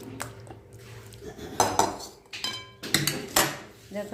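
Metal cooking pots of rice and fish curry being lifted off a stove, close clanks and scraping knocks of metal on metal in irregular bursts, loud at moments, with no speech.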